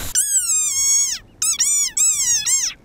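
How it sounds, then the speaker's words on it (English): An angry frog lets out a series of loud, high, squeaky drawn-out cries in three bursts, sounding almost like a squeaky dog toy, close and alone. "this is the sonorous war cry of a very angry frog"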